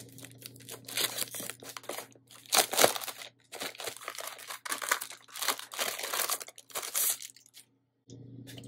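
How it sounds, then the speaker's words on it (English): Plastic packaging crinkles and crackles in bursts as it is opened by hand, close and uneven with short pauses, no voices. "to spare you of the very annoying crinkling of plastic"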